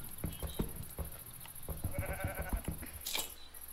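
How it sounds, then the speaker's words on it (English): Sheep in Minecraft bleat in a quick series of close, wavering calls, with a steady high background tone. "You got them sheep right there."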